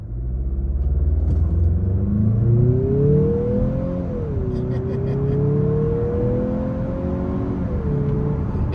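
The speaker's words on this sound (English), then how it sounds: "I'm gonna do full throttle acceleration from this stop" A 2023 Mazda CX-50 with a turbo engine launching at full throttle from a stop after brake torquing, a steady loud engine drone rising in pitch through the gears with a brief dip at each shift.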